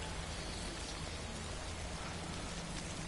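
Steady rain falling in the video game Death Stranding, a dense, even hiss of drops on surfaces that holds at a constant level for the full three seconds with no voices over it.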